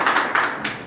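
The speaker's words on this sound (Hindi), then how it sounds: "जोरदार ताली सर के लिए।" Clapping for a speaker at a Sunday meeting in Jaipur, a brief round of a few hands beating in quick pulses, fairly close and moderately loud, with no talk over it.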